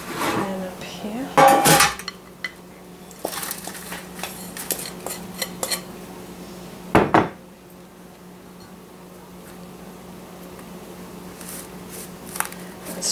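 A spoon scrapes and knocks against a 13x9 inch pan while pressing crust into it for banana cream squares, with a few loud clanks and scattered lighter taps among quiet stretches.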